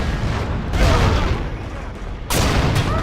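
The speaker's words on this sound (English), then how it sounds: "And we were blown up again." A loud, near explosion blows up the player in Battlefield Somalia, a roaring blast with rumbling debris that swells, eases, then surges again with a second heavy burst.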